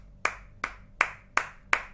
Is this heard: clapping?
yes